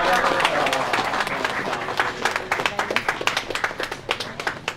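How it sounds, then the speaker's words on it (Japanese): Applause from the crew on a commercial shoot at the end of filming, with close, distinct individual claps that become sharper and more separate as the clip goes on, alongside people talking. "拍手が出てます"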